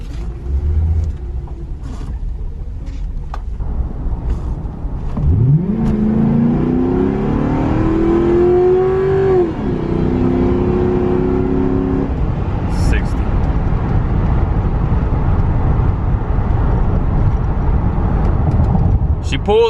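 A 2006 Ford Crown Victoria P71 accelerating from a 20 mph roll toward 60, its engine note sweeping upward through the gears with a shift, heard from inside the car under steady road rumble while someone talks.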